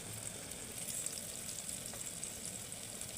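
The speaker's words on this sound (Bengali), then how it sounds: "তেলে দিয়ে দিতে হবে জিনিসটা, এটাকে না খুব কড়াভাবে ভাজতে হবে। লাল লাল করে জিনিসটা ভেজে নিতে হবে।" Green banana pieces coated in gram flour and arrowroot frying in hot mustard oil, a continuous close hiss and crackle of sizzling with no voices.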